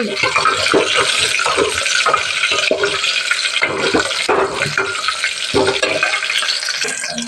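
Green chillies and garlic fry in a pan, a loud, hissing sizzle with scraping, stirring clatter throughout and no one speaking.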